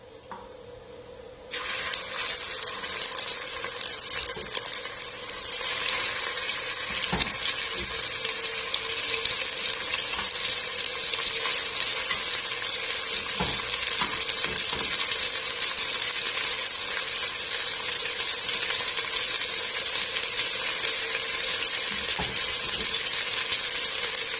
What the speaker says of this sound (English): And we're gonna brown the meat.